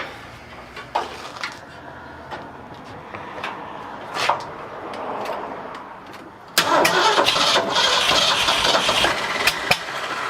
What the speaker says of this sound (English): Backfire, that means timing is way off.